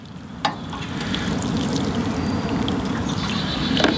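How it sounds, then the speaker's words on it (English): Water splashes and trickles steadily onto soil in a garden container of freshly sown cantaloupe seeds, a close, continuous pouring hiss with no talk. "then you want to just water them in real nice."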